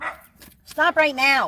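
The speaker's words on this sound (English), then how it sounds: "You hear my dog's going crazy for a reason." A pet dog barks and whines close by in a few sharp, high bursts, after a person's brief spoken command.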